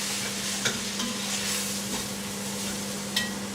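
Flour is stirred into a pot of beef bourguignon as a spoon scrapes through the contents with a low, steady bubbling sizzle and a few soft knocks against the pot, close and moderately quiet under a faint constant hum, with no speech.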